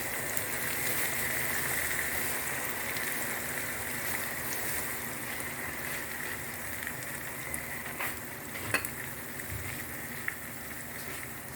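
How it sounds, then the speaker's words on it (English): An egg goes into a vegetable sauce cooking in a pan, giving a steady hiss of sizzling and bubbling with a few faint clicks of a utensil near the end. "At this point, I'm going to add my egg."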